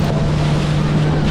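Motor boat crossing open sea toward Elephant Beach, Havelock, Andaman: a steady, loud engine drone with a strong low hum, overlaid by rushing water, wind buffeting the microphone and waves slapping the hull, continuous with no talk.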